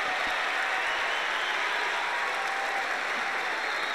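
A tennis crowd at the 2003 US Open applauding around a crucial break point, a steady dense wash of clapping from many spectators, sustained and even throughout.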